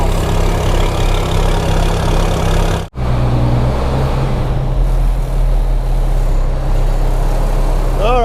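A truck engine idles loud and close with a steady low rumble, briefly dropping out for an instant before resuming its even idle; a voice talks faintly over it near the end.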